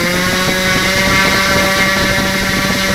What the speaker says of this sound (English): That's at about two-thirds, three-quarters throttle. Full throttle.